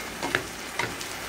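Potatoes and a few bird's eye chilies frying in a pan while being stirred, a soft steady sizzle with two brief scraping clicks from the spoon.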